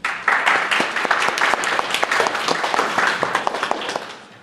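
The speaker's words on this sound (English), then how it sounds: "So please give a round of applause to Mario Musgrove." An audience claps steadily for a student presenter at a school celebration event, dense and sustained applause of many hands close by, with no talk over it.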